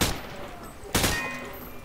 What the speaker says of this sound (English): Just fire from the hip.